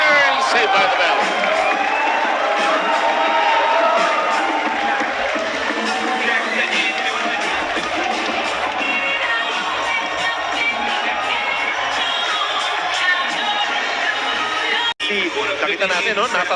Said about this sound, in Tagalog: And the crowd beginning to yell, looking for something here